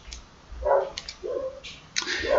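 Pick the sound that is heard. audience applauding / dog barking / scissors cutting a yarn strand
dog barking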